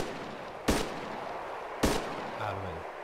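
Gunfire from a turret in DayZ Epoch: two sharp, loud shots about a second apart over steady background noise, with a short low tone near the end.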